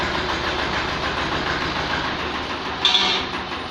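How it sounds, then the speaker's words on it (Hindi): A 1979 Sartaj antique tractor engine runs steadily, giving a continuous rough rumble that holds an even level throughout, with a brief brighter rise near the end. "ये देखिए दोस्तों, चल रहा है ट्रैक्टर"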